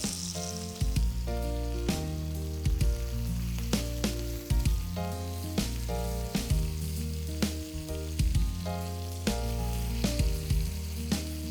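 Chicken drumsticks roast in a pan over a medium-low flame, giving a steady sizzle broken by recurring bursts of tonal, pulsing clatter, close and unvoiced.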